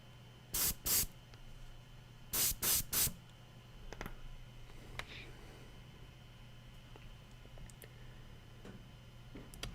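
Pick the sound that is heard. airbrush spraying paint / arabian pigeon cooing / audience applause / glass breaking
airbrush spraying paint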